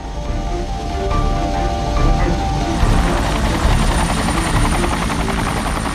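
A military helicopter on a hostage rescue mission, its rotor chop swelling from a low drone into a loud, close, steady thudding roar.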